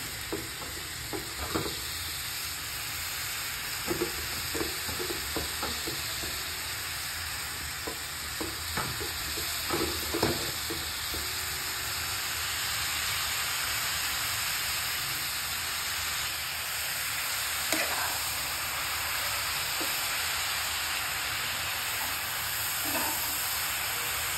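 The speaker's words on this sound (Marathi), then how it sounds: "थोडं 10 मिनटं परतायचं जरा, थोडं शिजेपर्यंत तुपामध्ये." Grated bottle gourd sautés in ghee for halwa, giving a soft continuous sizzle with scattered scraping stirs of a spoon against the pan. The clip is faint and close, and nobody speaks.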